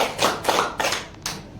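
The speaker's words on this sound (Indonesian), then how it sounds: "Tepuk tangan dulu." A small audience of teachers claps in brief, uneven bursts, close and fairly loud, with a few separate rounds of hand claps.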